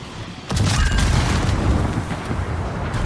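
A shell strikes the warship Svea in a naval battle game, a sudden deep boom that erupts and then rumbles on as a sustained low roar.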